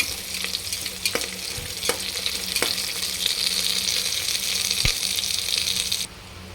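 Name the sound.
onions and green chillies frying in a pan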